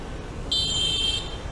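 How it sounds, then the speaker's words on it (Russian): A horn sounds in busy Vietnamese street traffic where motorbikes dominate, a single steady electric-toned honk lasting under a second over constant road noise, with no talking. "Вот зачем так сигналить, елки-палки?"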